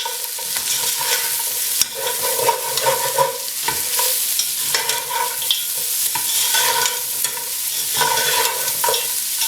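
Lamb pieces for pilau, seasoned with ginger, garlic and salt, sizzle and fry in a pot while a utensil stirs and scrapes through them in repeated close strokes, with no talking.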